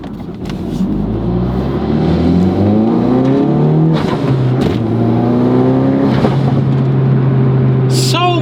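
Tuned 415 hp Ford Focus RS engine pulling hard through the gears, rising revs with brief shift breaks and a steady loud drone under occasional voice, ending with a short high whine.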